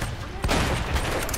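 Gunfire in the video game Uncharted: Drake's Fortune, a dense loud burst of shots and impacts filling the mix, sustained and close.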